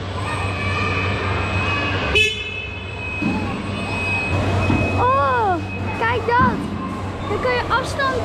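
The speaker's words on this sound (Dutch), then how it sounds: "Ik ga hem laten toeteren." Horn of a remote-controlled vehicle attraction at the Robotland theme park, several short tooting bursts over a constant motor hum, with people talking throughout.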